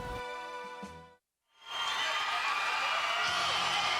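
A large arena crowd at a Bellator mixed martial arts event cheers and whoops for fighter Lyman Good, a loud continuous roar swelling after a brief silence, following a short stretch of music.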